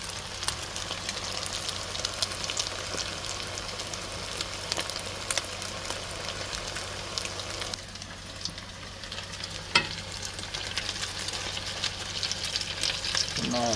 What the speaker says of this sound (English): just put these in the hot oil till they turn a golden brown